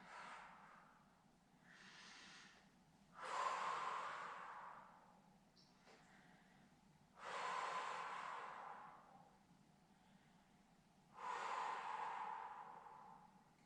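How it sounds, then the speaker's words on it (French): Deep breathing during a Pilates exercise with a cushion, three long slow breaths drawn in and out close by, each a soft airy rush that swells and fades, with quieter breaths between. "Sur 5 grandes respirations."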